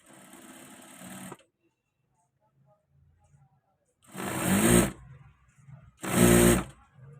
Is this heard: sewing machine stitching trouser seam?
yes